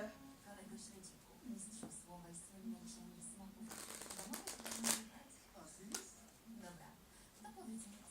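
A deck of playing cards is shuffled at close range during a card trick, giving a dense riffling burst in the middle, with lighter handling rustles before and after and someone talking softly throughout.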